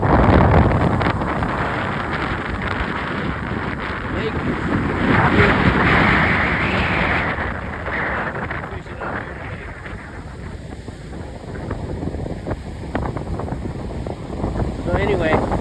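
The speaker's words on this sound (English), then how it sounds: "the wind is back today. It's blowing like a son of a gun." Strong wind blows in gusts across an outdoor microphone, making a steady, loud broadband rumble that swells and eases over several seconds.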